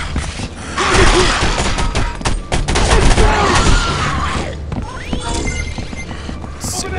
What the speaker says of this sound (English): Look at how slow he's shooting. Shoot better than that.